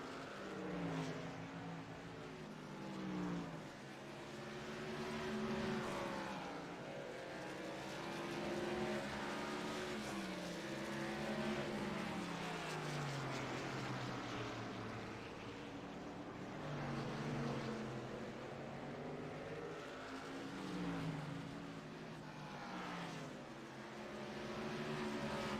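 Race truck engines roar in a video game race at North Wilkesboro, two fast trucks battling side by side with steady loud revving that rises and falls as they pull away, no voices.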